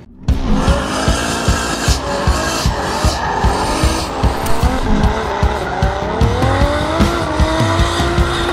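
A Nissan Elgrand driven hard, its engine roaring steadily while the tires squeal and skid repeatedly in loud, close bursts throughout.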